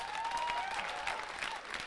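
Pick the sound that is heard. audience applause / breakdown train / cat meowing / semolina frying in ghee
audience applause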